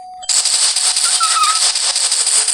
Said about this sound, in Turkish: Oynat silahla vur onları.